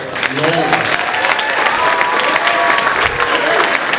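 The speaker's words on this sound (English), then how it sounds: "Let's give another round of applause for our amazing percussionist" A high school chorus concert audience gives a loud, sustained round of applause for the percussionists, dense clapping with a little crowd noise and a voice underneath.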